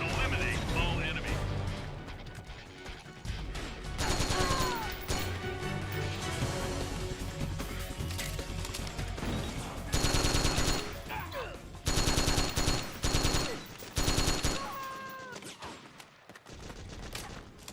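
Gunfire in the video game Metal Gear Solid 4, dense sustained bursts of automatic fire and crashing impacts over a loud battle, with shouted voices and radio chatter mixed in.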